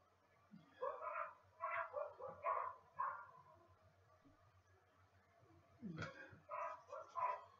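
Several messy dogs bark in short bursts, a pair of clustered yaps early, then a sharp yelp and more barking near the end, moderately close over a low steady hum.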